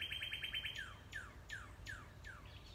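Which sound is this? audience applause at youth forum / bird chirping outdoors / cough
bird chirping outdoors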